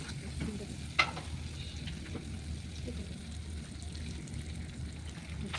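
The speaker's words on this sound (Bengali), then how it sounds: "ভাজা ভাজা হয়ে গেছে, এবার মানে আমরা ডিম দিয়ে দেবো।" Masala with Kashmiri chili sizzles and fries in a pan for egg curry, a soft continuous crackle with a single brief clink of a utensil near the start.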